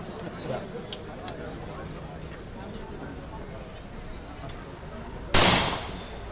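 One sharp, loud rifle shot bursts out near the end at an outdoor bird-shooting festival, after a stretch of crowd murmur with a few faint distant pops earlier on.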